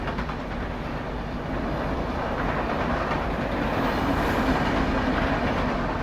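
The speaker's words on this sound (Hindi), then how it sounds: "ये वही है एसएमवीटी बेंगलोर पाटलिपुत्रा साप्ताहिक सुपरफास्ट एक्सप्रेस, जो कि हमें ओवरटेक कर रही है दिलदार नगर जंक्शन रेलवे स्टेशन पे।" A weekly SMVT Bengaluru–Patliputra superfast express overtakes at Dildarnagar Junction station, a steady, loud rumble of rolling wagons and wheel clatter filling the whole stretch without letup.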